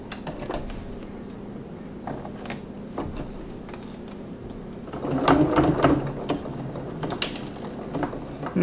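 A sewing machine stitching an animal-print apron, with mechanical whirring and clicking in short uneven bursts, quiet at first, then a busier, louder run of stitching in the second half, all close up.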